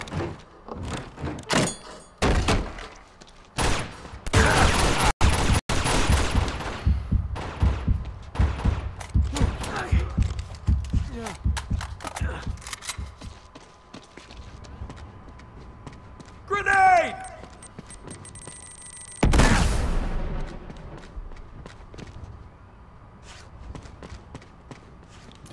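Pistol shots and combat thuds in Uncharted 2: Among Thieves on PS4, a dense burst of sharp reports and impacts early on, then sparser hits and one loud final blast, with a voice briefly heard.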